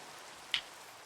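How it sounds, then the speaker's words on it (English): Rain and snow fall in Finland as a quiet, constant wash of noise, broken by a single sharp drip or tick halfway through. "Snow and rain."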